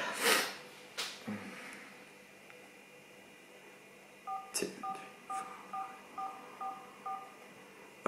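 A premium-rate phone number is dialed on a telephone keypad, giving a quick run of about eight short, evenly spaced DTMF tones, preceded by some handling noise and rustling.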